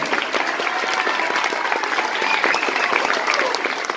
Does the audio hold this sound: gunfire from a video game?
no